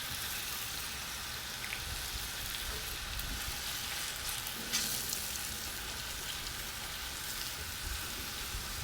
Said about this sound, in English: We'll saute these guys until they're nice and done all the way through.